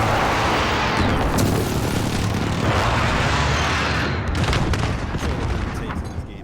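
A continuous roar of explosions and booming blasts from a Call of Duty precision airstrike, loud and dense, swelling and fading over several seconds with a voice talking over it.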